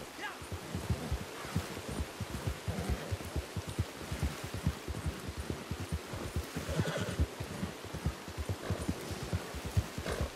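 A horse whinnies in a video game amid rapid clip-clopping hooves and a rain-like patter, with faint voices in the background.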